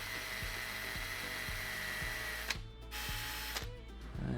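A steady high whine of a drill with a Forstner bit boring eye holes in a wooden glide bait, continuous and close, with brief dips as the bit cuts, no talking.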